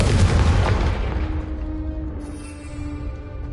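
A Confringo blasting spell detonates in Hogwarts Legacy, a single loud booming explosion that hits hard at the start and then rumbles and fades away over a few seconds.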